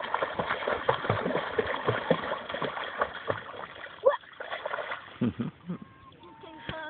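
Someone splashes and sloshes seawater while bathing at Rügen, irregular close splashes and swishes in quick bursts, with a few louder slaps, as voices talk intermittently over it.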